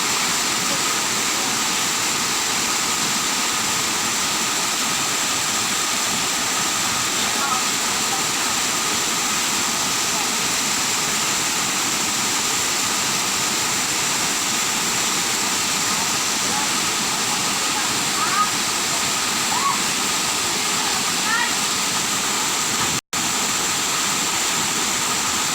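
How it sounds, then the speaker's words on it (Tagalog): The Busay Lower Baluran waterfall in Imelda, Zamboanga Sibugay gives off a steady, dense roar of falling water that holds even and unbroken throughout, with only a single brief click near the end. "ito yung mukha ng falls"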